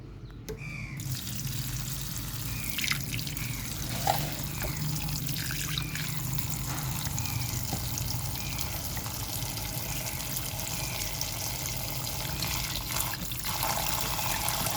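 Water trickles and pours steadily into a bowl holding bitter gourd set to soak, a continuous soft running flow with a few faint clinks, alone without voices.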